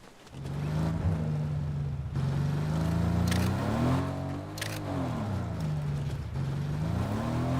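Car driving in a video game, a continuous engine drone whose pitch rises and falls as it accelerates and eases off, fairly loud and steady throughout, with no talking.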